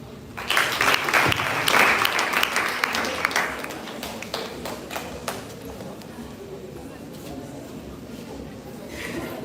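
A crowd at a poetry prize event applauds, loud at first and then thinning to scattered claps as it fades, with voices murmuring underneath.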